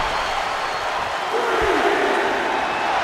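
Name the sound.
crowd reacting in the video game WWE 2K24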